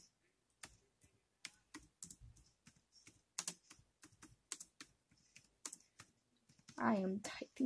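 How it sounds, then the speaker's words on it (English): Close, quiet typing on a computer keyboard, a run of separate clacking keystrokes in an irregular rhythm, with a voice speaking briefly near the end. "I am typing to him."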